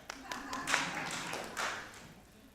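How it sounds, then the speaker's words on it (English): A convocation audience claps briefly, a scattering of distinct hand claps and taps, fairly close and moderate in level, with faint voices in the background. "Clap for that."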